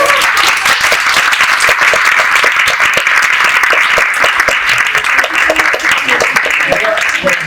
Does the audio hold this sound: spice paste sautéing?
no